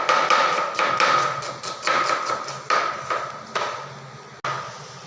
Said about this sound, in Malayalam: അപ്പോൾ ഗൈസ് കറിക്ക് ആവശ്യമായിട്ടുള്ള ഉള്ളി അരികയാണ് ഗൈസ്